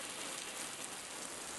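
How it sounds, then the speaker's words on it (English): Water sprinkled gently onto freshly transplanted onions in a garden bed, like soft rain, a quiet, even, continuous patter of fine drops with no voices. "I'm trying to do this again with as gentle a simulation of a gentle rain as possible"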